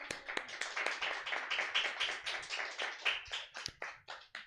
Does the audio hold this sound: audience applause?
yes